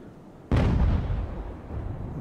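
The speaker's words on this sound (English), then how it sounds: "We'll bring the Vengeance around so she can fire her starboard guns." A warship's cannon broadside in the Age of Sail naval battle game Ultimate Admiral, one sudden loud boom followed by a long rolling rumble that fades slowly.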